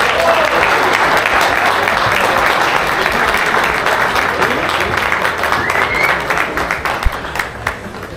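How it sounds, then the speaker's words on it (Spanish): An outdoor crowd applauding at a bass fishing tournament award ceremony in Tamaulipas, loud sustained clapping from many people that thins slightly toward the end, with voices mixed in. "¡Un fuerte aplauso!"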